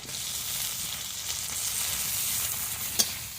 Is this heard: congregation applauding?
no